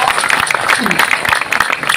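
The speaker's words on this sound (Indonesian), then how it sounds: "Tepuk tangan untuk warga NU Batam ini luar biasa." A crowd at an Islamic gathering in Batam claps and cheers loudly and steadily for a couple of seconds, dense applause close by with voices mixed in.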